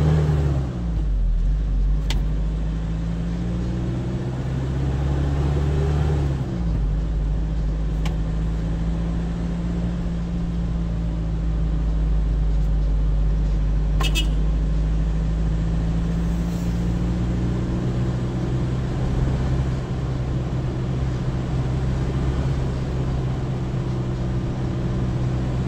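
A Hyundai Porter2 truck's D4CB diesel engine, running with low power and blowby, holds a steady idle rumble that rises briefly in revs and then settles into a continuous drone.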